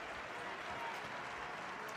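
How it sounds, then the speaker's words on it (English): A crowd applauds at a fencing podium ceremony in Turin, giving a steady, even wash of clapping at moderate distance with no pauses. "Generous round of applause from the crowd here"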